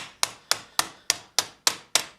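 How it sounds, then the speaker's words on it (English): Steel outer lame of a Milanese mitten gauntlet from around 1450, struck with a hammer while refining its shape: eight sharp, evenly spaced metallic blows in steady rhythm, close and clear with ringing decay. "although I'm hammering the outer lame, I'm actually doing as much work or more to the inner lame"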